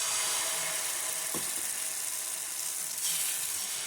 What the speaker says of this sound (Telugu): అప్లై చేసి ఇప్పుడు దానిపైన దోశ పిండి వేస్తున్నాను